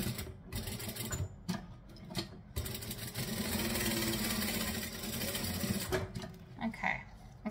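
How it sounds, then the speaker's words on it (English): A sewing machine stitches a seam along a line on a saddle bag, running in short close bursts with pauses at first, then a steady sustained run, then more brief spurts. "So I'm just gonna stitch along that line, making sure that everything's lined up."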